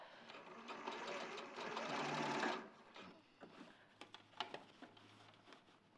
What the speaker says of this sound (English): We're going to sew along, presser foot's down.